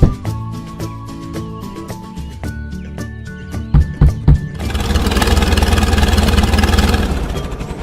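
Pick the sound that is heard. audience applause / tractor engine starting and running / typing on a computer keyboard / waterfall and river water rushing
tractor engine starting and running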